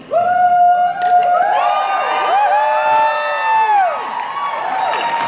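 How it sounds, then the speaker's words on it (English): A leadership event audience breaks into loud, sustained cheering and whooping, many voices shouting and screaming together close by, holding at full volume before easing slightly near the end. "The other thing is cheer really, really loud."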